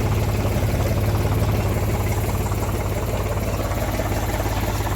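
A big tractor engine runs steadily at a constant drone while sowing peanuts in a field, a loud continuous low rumble with steady vibration and no talk.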